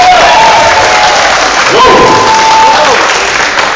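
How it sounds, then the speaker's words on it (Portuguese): A crowd at a Star Wars cosplay contest at a convention claps and cheers loudly and continuously, dense close applause with shouts and whistles mixed in. "Palmas de novo para a Cibele."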